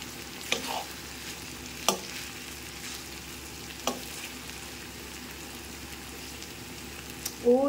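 Potato and carrot fry stirred in a pan, with a steady low sizzle and a few sharp spatula scrapes and clinks spaced a second or two apart, close and fairly quiet.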